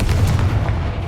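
Confringo spell from Hogwarts Legacy going off as a loud, booming blast, a dense burst of low rumbling impact filling the short moment without any talk.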